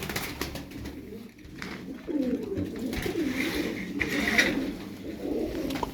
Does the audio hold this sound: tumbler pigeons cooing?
yes